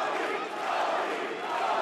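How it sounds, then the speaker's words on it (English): Bellator 190 MMA fight crowd chanting the name Tony, a dense, steady roar of many voices filling an arena for the full stretch without a break. "Crowd chanting Tony"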